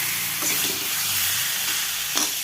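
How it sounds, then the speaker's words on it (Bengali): Spiced masala frying in a pan as water is poured in, a steady close sizzle and bubbling hiss throughout with faint stirring clinks and a brief sharper burst near the end. "আর এদিকে এটা মশলা কষানো হয়ে গেছে। এবার এর মধ্যে জল দিয়ে দেবো।"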